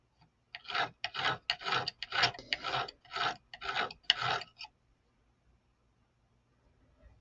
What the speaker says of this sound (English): So I think with the needle nose pliers, we're getting some better filing.